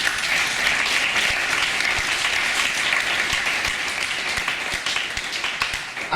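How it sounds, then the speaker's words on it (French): Clapping from a church congregation during a prayer vigil fills the room: many hands beating in a thick continuous roar, with sharper individual claps standing out near and loud. "Applaudissez le Seigneur."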